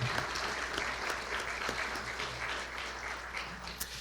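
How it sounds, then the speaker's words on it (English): An audience applauds top scholars at a high school recognition event, the clapping steady and sustained throughout with no speech over it. "How about a round of applause for our top scholars?"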